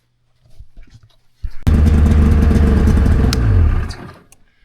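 A vintage Polaris RXL triple with fuel injection fires up after a few faint knocks, then settles into a loud, steady near idle for about two seconds before the engine drops away.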